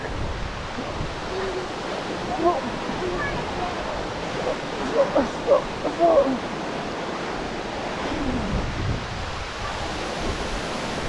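Huai Luang waterfall roars as a steady broad rush of falling water with wind and spray, constant and close, with a few brief louder bursts in the middle.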